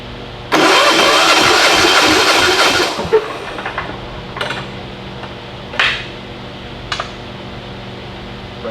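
An abandoned Titan 7500 diesel generator engine cranks over loudly and roughly for about two and a half seconds before stopping, followed by a few short separate bursts of cranking in the quiet that follows.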